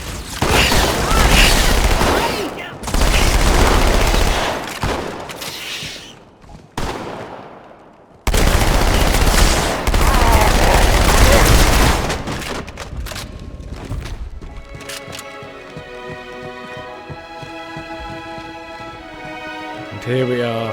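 Rapid SMG bursts from the Halo 2 Anniversary campaign on the Regret level, loud and dense in long sustained volleys, broken by brief gaps, then fading into a softer stretch with tonal game music or effects near the end.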